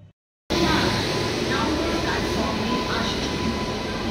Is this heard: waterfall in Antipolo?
no